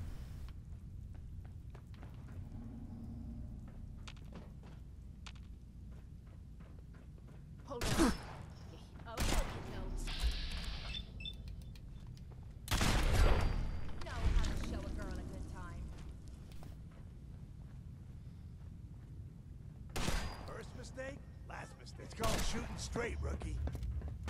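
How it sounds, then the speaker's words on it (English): Gunfire in the video game Fallout 4, with several sharp broadband shot bursts spread across the stretch over low game ambience, a cluster near the middle and another toward the end, with a voice talking in between. "Now I'm shooting."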